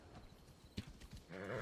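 A horse in the video game Assassin's Creed Odyssey trots with faint, quick hoof clops, then gives a short, clear whinny at the end; the sounds are quiet and brief.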